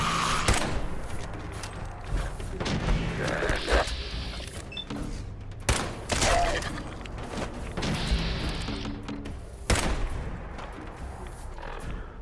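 Gunfire in Fallout 4 rings out in several sharp bursts and single cracks spread across the stretch, with booming impacts and fainter background game noise between shots.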